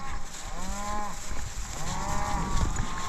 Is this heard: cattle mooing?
yes